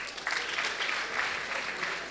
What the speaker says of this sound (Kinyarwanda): amashyi menshi kuri Rumaga